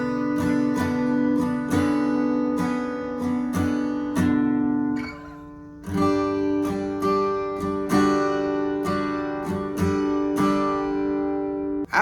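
Acoustic guitar strumming the chords of a song in standard tuning without a capo, a steady run of ringing strums with a brief pause near the middle, played close and alone.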